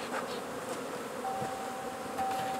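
Honey bees in an opened hive during a beginner beekeeping class in Swanzey, New Hampshire, make a steady, close buzzing drone that holds throughout, with no talking.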